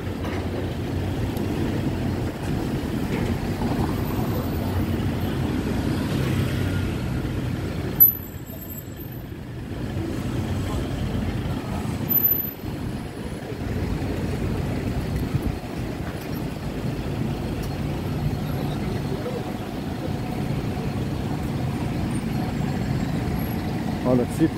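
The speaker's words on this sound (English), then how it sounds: "A lot of traffic." Steady street traffic on Sukhumvit 11 in Bangkok, a continuous broadband rumble of engines, trucks and buses passing nearby with occasional brief thumps and hiss, no speech.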